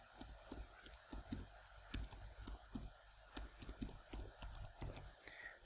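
Keys tapping on a computer keyboard as a question is typed, quiet irregular clicks in quick bursts with brief pauses.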